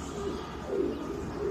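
Low, soft cooing of a blue-footed pigeon, a few murmuring pulses close by against faint background hiss, with no talking.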